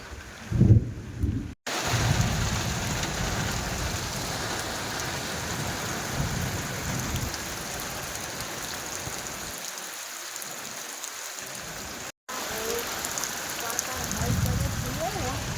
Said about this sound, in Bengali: মুষলধারে বৃষ্টি তো শুরু হয়ে গেল, কিন্তু ও বাবা, বজ্র পড়ছে না? আকাশ ডাকছে খুব,